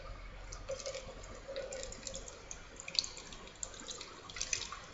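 Water poured out of a measuring cup in a kitchen, a faint, quiet trickle with small drips and splashes, close and without talk.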